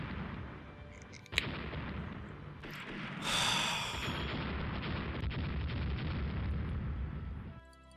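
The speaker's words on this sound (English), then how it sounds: "Magazine explosion." A ship's magazine detonates in the naval strategy game Rule The Waves: a sharp crack comes first, then a heavy booming blast that rolls on as a long, loud rumble before cutting off.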